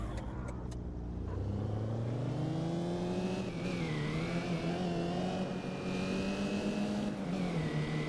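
BMW car engine in the City Car Driving simulator, revving steadily with rising and falling pitch, loud and close throughout, with no talking.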